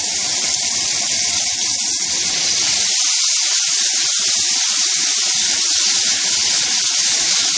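Blue Bonnet margarine, used in place of butter, sizzles and steams in a hot, slightly unlevel pan while a steak cooks, giving a loud, steady hiss that runs unbroken throughout with no talk over it.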